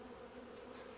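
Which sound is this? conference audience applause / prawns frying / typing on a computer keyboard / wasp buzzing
wasp buzzing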